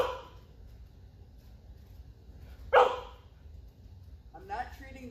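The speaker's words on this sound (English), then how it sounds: "I'm not treating the bark because I don't want him to do that" A dog gives one sharp, loud bark mid-clip during a training session, with a short whine or yip near the end and a person speaking at the start.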